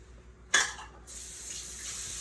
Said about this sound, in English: I'm actually gonna probably let my water run a little bit too